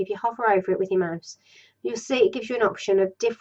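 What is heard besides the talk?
None of the usual background noises is heard.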